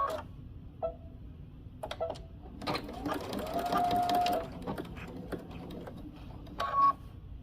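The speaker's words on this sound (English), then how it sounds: "we're going to stitch along the seam line on the raw edges" A sewing machine stitches along a seam of cargo pants in short bursts, with a longer whirring run in the middle and clicks between, while a person talks over it.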